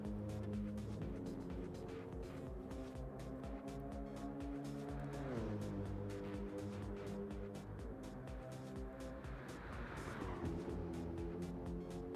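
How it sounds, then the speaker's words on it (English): A race car engine in Gran Turismo 7 roars steadily on the Nordschleife, revving and shifting up through gears as it speeds along, loud and continuous with no talking. "I love the sound of this car"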